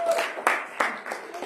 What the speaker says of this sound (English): Let's give Anna a big hand clap.